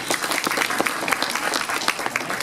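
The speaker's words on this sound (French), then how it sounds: "Bravo, on peut t'applaudir." Applause from a small group, dense and close with individual claps popping out, a brisk steady patter filling the whole moment without speech on top.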